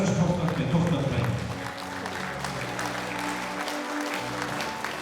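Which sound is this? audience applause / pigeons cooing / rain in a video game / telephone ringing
audience applause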